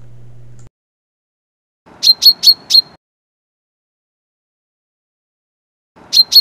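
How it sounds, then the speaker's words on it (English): Chaffinch (Fringilla coelebs) in Finland giving bright, rapid chirping notes in short bursts, four quick calls in a row and more starting near the end, clear against silence. "At this time of year, the mating and territorial songs of the chaffinch can be heard all around Finland."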